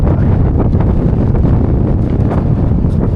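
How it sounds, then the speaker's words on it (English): Strong wind blows across an exposed snowy edge in winter, a steady, gusting roar that buffets the microphone throughout with no break. "That wind is blowing right up"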